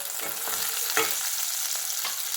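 Ingredients for mushroom gravy sauté in a hot pan, giving a steady close sizzle with several distinct stirring scrapes spaced through it, and nobody speaking.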